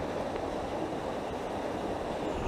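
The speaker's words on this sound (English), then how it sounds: "The water's running really fast, so I don't particularly need a too slower exposure" Fast-running water tumbles down mountain cascades in a steady broadband rush, faint and continuous, with no talk.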